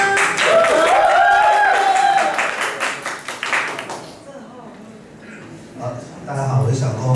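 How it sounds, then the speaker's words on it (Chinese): Audience applause welcoming a speaker at a Kaohsiung talk event on the vanishing Taiwanese language, loud and dense for about four seconds and then thinning out, with voices and crowd murmur running underneath. "掌声欢迎他。"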